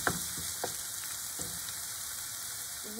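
Christophine and chilli sweating in a hot pan, a quiet, steady sizzle with a few faint stirring clicks, heard on its own.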